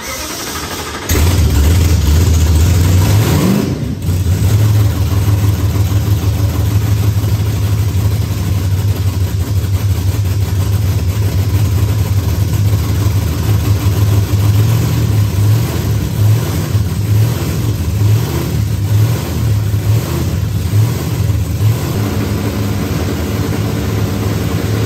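A burnout car on a dyno, being set up and tuned for a burnout contest. A loud, close engine starts with a sudden roar, then holds a heavy, steady rumble with small rises in revs and no talking.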